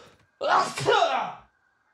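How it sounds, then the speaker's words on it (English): A single big, loud human sneeze bursts out close to the mic with a sharp intake and forceful release, alone in otherwise quiet surroundings. "Holy crap, that was a big sneeze."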